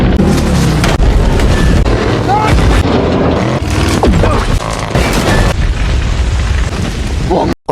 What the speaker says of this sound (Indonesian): akhirnya terjadi ledakan hebat, membuat semua truk meledak